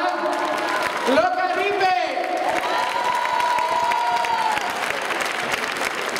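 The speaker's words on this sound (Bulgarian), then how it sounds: "Едно голямо ръкопляскане за Стара Загора" An audience applauds and cheers for the Stara Zagora dance troupe at a national salsa congress. Clapping and whoops rise in a broad swell, and an announcer's amplified voice carries over the crowd.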